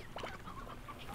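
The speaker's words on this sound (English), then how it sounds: "I heard a chicken." A chicken clucks in Slime Rancher, a short burst of quick fowl calls close by over a steady game background, with no talking.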